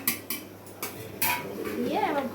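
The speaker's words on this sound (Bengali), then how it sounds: "এবার ডিম ভাজাগুলো দিয়ে দিলাম" Fried eggs are dropped into an egg tadka and stirred in a pot, with several sharp spoon-on-metal clanks and scraping, and a voice speaks briefly toward the end.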